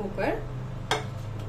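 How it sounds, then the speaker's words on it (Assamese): Soaked dal poured into a pressure cooker in a home kitchen, a soft grainy rustle followed by a sharp metallic clink against the pot, faint and close, with a low hum beneath. "কুকাৰতে মই দালিখিনি দি দিছোঁ।"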